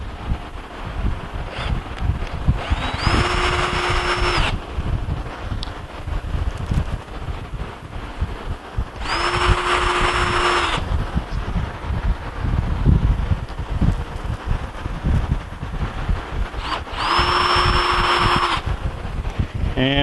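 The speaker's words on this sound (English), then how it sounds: "Now we'll run our wood screws down." A power drill driving wood screws into a wooden bench, three separate whirring bursts of one to two seconds each, close and loud, separated by handling noise and background rustle.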